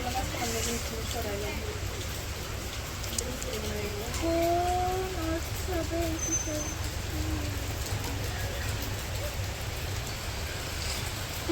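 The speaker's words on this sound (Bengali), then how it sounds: "বৃষ্টি নামলো ঠান্ডা ঠান্ডা লাগতেছে" Light rain falling outdoors on a cool morning, a soft steady patter under nearby conversation, with occasional bird calls in the background.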